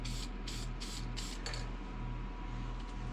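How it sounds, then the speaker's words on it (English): A spray can puts black paint on the reflectors of a Harley-Davidson Street Bob 107 in four short hissing bursts, then a longer spray, with a low background hum throughout. "Man, that damn thing sprays high."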